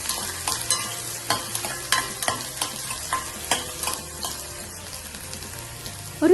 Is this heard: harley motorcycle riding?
no